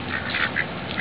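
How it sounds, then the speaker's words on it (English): Duck quacking outdoors among Stockton wildlife, with several short, close, fairly loud quacks spread across about a second and no voices. "Hi, Ducky. Go eat some more."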